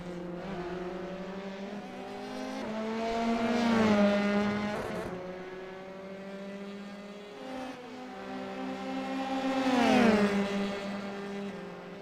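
Race car engines in a racing league round drone and whine on track, their pitch repeatedly rising and falling as the cars accelerate and pass, steady at moderate loudness.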